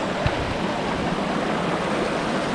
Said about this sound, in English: this is a huge creek. It looks like a river.